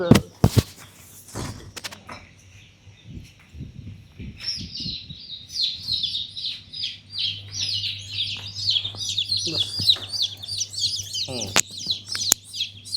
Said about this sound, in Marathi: आता हे तयार झालेले काही पक्षी पण इथं आहेत हे शकील भाई दाखवतीलच आपल्याला